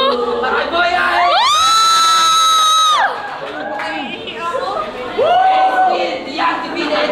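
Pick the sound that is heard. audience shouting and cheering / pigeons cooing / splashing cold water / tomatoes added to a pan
audience shouting and cheering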